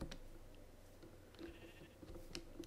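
Sheep in Minecraft give a few soft, quiet bleats, spaced out over a faint game background.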